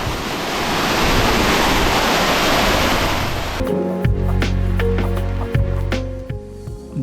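The Napittachora waterfall in full monsoon flow, a loud broadband rushing roar for several seconds, then cutting abruptly to music with plucked and sustained tones.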